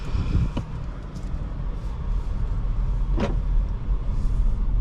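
A 2024 Volvo S60 T8 Recharge Ultimate plug-in hybrid drives slowly around a dealership lot in hybrid mode, heard from inside the cabin as a steady low road rumble with a faint engine hum and a few soft clicks.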